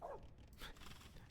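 Dogs bark faintly in a real-time strategy video game, a couple of brief, distant yelps among soft game sounds with no talking.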